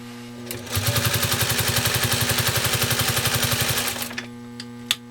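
A 1956 Singer 301A sewing machine stitches steadily with a fast, even rhythmic clatter over a low hum for about three seconds, then winds down. The machine runs quietly and sounds close.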